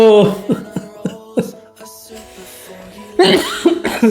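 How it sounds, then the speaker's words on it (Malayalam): A person coughs in a series of short, rough bursts spread across several seconds, close and fairly loud, with vocal, throat-clearing sounds between the coughs. "ചുമയും വരുന്നു"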